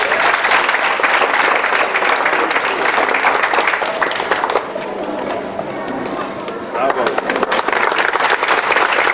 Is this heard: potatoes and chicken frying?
no